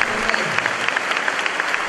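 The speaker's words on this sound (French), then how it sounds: "Un grand applaudissement pour notre Dieu." An audience at a church Bible study applauds steadily, a dense, even wash of clapping that fills the short moment.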